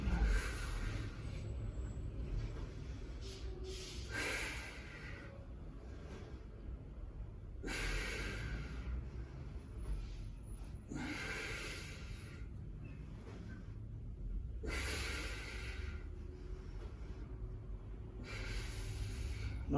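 Heavy, forceful breaths during leg raises in a core workout, long loud exhales and inhales alternating in a slow, regular rhythm, close to the microphone.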